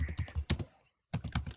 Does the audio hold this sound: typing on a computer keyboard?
yes